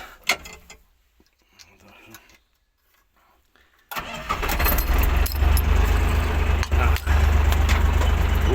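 A tractor engine cranks and fires at about four seconds, then runs loud and steady with a deep low rumble before sowing soybeans, after a quieter stretch of faint handling noises.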